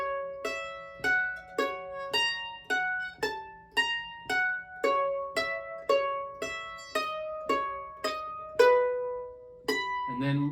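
Crosspicked acoustic guitar phrase from Nine Pound Hammer in McReynolds style, a clean, evenly spaced run of about a dozen plucked notes with a bright attack, close and alone.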